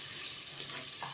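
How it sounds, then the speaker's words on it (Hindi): Yogurt simmering in a pan with boiled potatoes for dahi aloo curry, a steady bubbling sizzle with a soft stir partway through, close and continuous. "तकरीबन 1 मिनट हम मज़ीद दही को पकाएंगे।"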